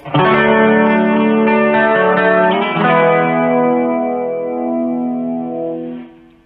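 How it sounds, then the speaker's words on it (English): An electric guitar through a Vox VX15GT amp plays sustained, thick chords drenched in a heavy, wobbling chorus effect with some grit, ringing out loudly before fading at the end. "Heavy, bordering on crass kind of chorus."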